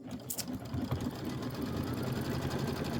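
A sewing machine stitches steadily, quilting the borders of a Nativity bench pillow, its fast even needle rattle running close and continuous throughout.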